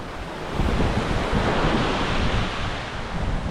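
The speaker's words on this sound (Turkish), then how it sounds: "burası Lara plajı" Steady roar of surf washing onto Lara Beach in Antalya, Turkey, with broad rushing noise and wind buffeting the microphone throughout, no voices.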